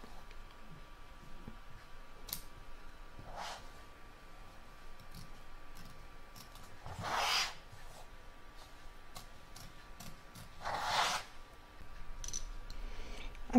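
Scissors cut through thin double-layered fabric and embroidery stabiliser while a bottle tag is being made, giving three soft, brief snipping rustles spaced a few seconds apart over a quiet room.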